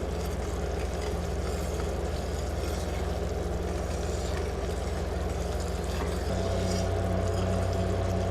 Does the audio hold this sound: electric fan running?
yes